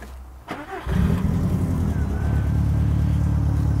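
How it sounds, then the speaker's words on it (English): A car engine turns over and settles into a deep, throaty idle, the exhaust rumbling steadily and loudly close by. "we're gonna have to hear what this exhaust sounds like on this car"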